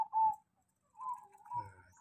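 A zebra dove (perkutut) gives soft, faint cooing notes: a short coo, a pause, then a longer wavering phrase. The bird is heard alone.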